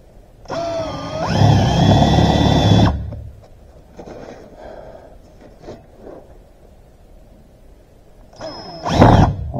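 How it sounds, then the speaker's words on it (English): A power drill bores a half-inch hole into a center-punched spot for a three-eighths bolt, with a loud whining bite lasting about two seconds, quieter handling noises, then another short burst of drilling. "I'm just going to drill a half-inch hole right where I center punched him."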